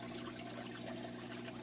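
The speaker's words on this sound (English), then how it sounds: "I've actually been in here tinkering around with my waterfall tank that you can probably hear behind us." Steady water running in a home waterfall aquarium tank, a continuous soft trickling wash with a faint hum underneath, quiet and unbroken, nobody talking.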